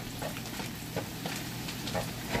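Garlic sizzling in plenty of butter as it browns in a pan, a steady close crackle with soft stirring scrapes and no voices.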